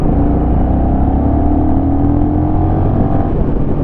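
A Honda Rebel 1100 motorcycle accelerates at half throttle, its engine note a steady, close rumbling drone with a slowly rising pitch, heard from the rider's position under wind noise.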